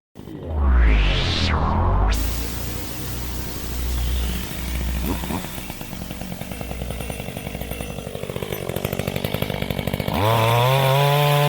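A motorbike engine revs with a harsh, buzzing rasp much like a chainsaw, rising and settling into a steady loud drone before dropping to a lower idle.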